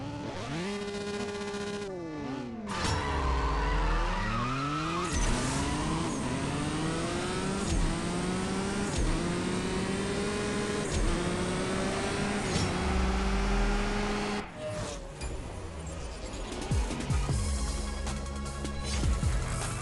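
Engines rev hard and shift through gears in the CSR2 drag-racing game, loud and continuous with rising and falling pitch sweeps, and a tire squeal and burst of acceleration near the start and again toward the end.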